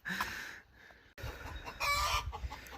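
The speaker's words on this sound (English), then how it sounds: "Sorry about the chickens and ducks" Chickens cluck and a rooster crows nearby, with a few duck calls mixed in, loud and intermittent.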